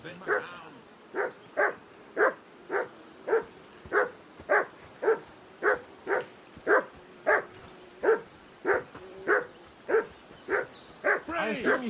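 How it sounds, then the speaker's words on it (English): A dog barks repeatedly in Kingdom Come Deliverance 2, about twenty evenly spaced woofs at a steady rhythm, fairly close and clear over a faint ambient bed. "I assume you can hear that damn dog of yours barking."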